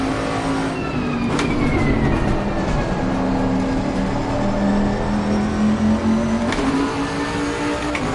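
Race car in the Assetto Corsa sim, engine droning steadily and rising and falling with gear changes, loud and continuous throughout with no voices.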